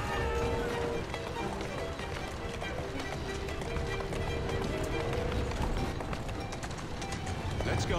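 Hooves of a carriage horse in Assassin's Creed Syndicate clatter fast and steadily on a street for the whole stretch, with rattling wheels and carriage mechanisms under the dense rhythmic clip-clop.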